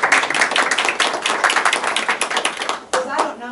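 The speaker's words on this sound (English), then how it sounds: "I think we just need to give Norm a round of applause." At a school board meeting, a small group claps for Norm, close, sharp, uneven handclaps forming a lively burst that thins toward the end as a voice starts speaking.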